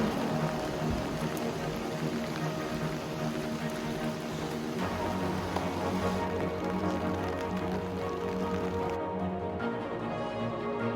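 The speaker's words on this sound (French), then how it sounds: "Voilà le château sous la pluie." Rain falls steadily on a castle in Germany, a dense, constant hiss and patter filling the whole stretch with no voices.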